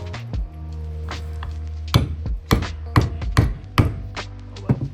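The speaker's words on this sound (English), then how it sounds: "Or you can start it with a hammer like that." Sharp metallic hammer strikes start a suspension bushing into a BMW E46 part, an uneven series of about six blows over a low steady hum, close and loud.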